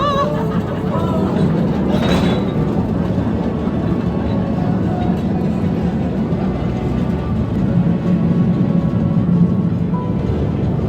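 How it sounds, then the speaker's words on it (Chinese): A small mine train rumbles through a salt mine tunnel with a steady low mechanical drone and a brief screech near the start, while voices are faintly heard over the rumble. "接下来要去体验盐矿的重头戏——盐矿小火车。"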